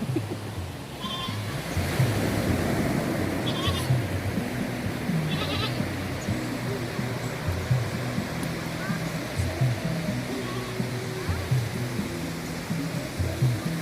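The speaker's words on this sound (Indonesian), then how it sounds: "Ini adalah kambing." A goat bleats a few times in short, wavering calls at a beach on Busung, Simeulue, set against a steady wash of surf and wind noise.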